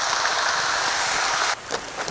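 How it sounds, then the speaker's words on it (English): Beer pours into a pot of braised black bear shank as a steady splashing, bubbling stream that stops abruptly partway through, followed by a few faint drips. "We're gonna add some beer here"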